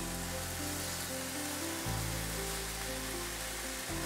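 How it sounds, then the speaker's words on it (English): Constant crackling sizzle of chicken frying on a hot griddle, close and even throughout, with a low hum underneath. "Whilst the chicken is sizzling,"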